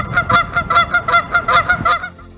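Geese honk repeatedly in a steady, loud rhythm, roughly five or six calls in close succession, with no talk over them.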